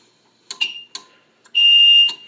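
A fire alarm system's general alarm sounding during a system test: brief shrill electronic tones, then one loud sustained steady tone close by, with no talking.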